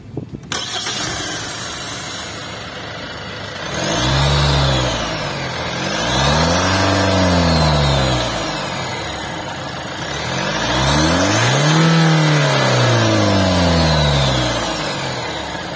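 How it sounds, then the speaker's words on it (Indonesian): A Kia Grand Carnival's 2.2-litre CRDI turbo diesel cranks and catches, then settles into a steady idle with a few swelling blips of revving, close and fairly loud with no voices. "kita pengen dengar suara mesin 2200cc CRDI yang sangat powerful dari mobil ini"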